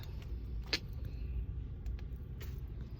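A Honda Fit set up as a micro camper being driven, heard from inside the cabin as a steady, close low road rumble with a few small clicks and knocks and no talking.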